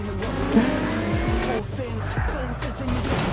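Race car engines roar and tyres squeal in the Ukrainian racing video game Trail Out, a continuous loud drone of motors and skids with a few swept tones, while a person talks over it.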